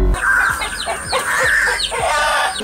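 Agitated clucking and squawking from a hen fighting a crow in a close scuffle, with rapid, harsh bursts of calls overlapping.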